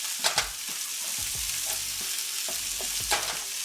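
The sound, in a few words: onions frying in a pan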